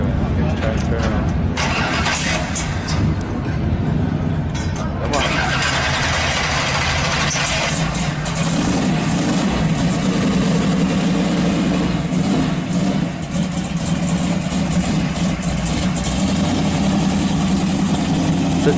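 A 1959 Chevrolet Impala engine cranks and catches, then settles into a steady, loud low idle that runs throughout, with someone speaking briefly over it.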